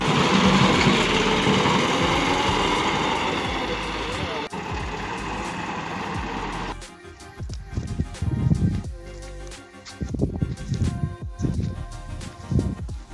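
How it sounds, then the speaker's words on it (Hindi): A tractor working a field during potato planting, its engine droning loudly at first, then giving way to uneven rumbling and clatter with voices talking over it. "ट्रैक्टर ने आज 6 एकड़ आलू लगाने हैं।"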